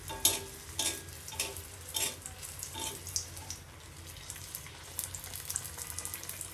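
Potato chops fry in oil with a steady sizzle, punctuated by repeated sharp spatters and stirring knocks that are loudest early and thin out toward the end.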